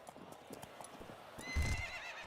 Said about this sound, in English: The horses are on the track.